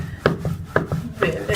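A wooden rolling pin rolls paratha dough on a board, making four or five close, rhythmic knocking rubs at even intervals.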